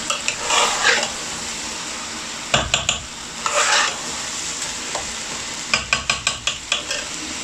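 Spices sizzle and crackle in a hot pot on low-medium heat while a spoon stirs and scrapes against the metal in short, repeated strokes, close up.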